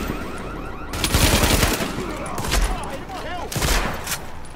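Sustained rapid automatic gunfire in Tom Clancy's The Division, loud and dense with bursts that swell and ease.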